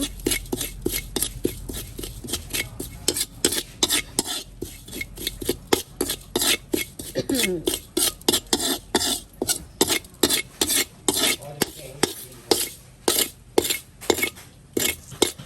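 Rhythmic rasping strokes of an ingredient being scraped over a grater while making Lao jaew bong chili paste, steady repeated scrapes close up with faint clinks.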